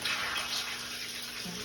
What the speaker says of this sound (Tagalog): Gawas na ang tubig.